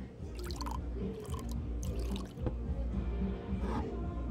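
A drink is poured into a glass during a bar scene in Life is Strange: True Colors; soft trickling and dripping liquid plays quietly with some fuller splashes, faint and close against a low background hum.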